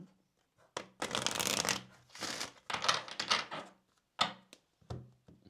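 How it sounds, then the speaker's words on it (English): A deck of Kipper fortune-telling cards is shuffled by hand in several short, crisp riffling bursts separated by brief pauses, close and clear. "let me go ahead and get a shuffle in for you"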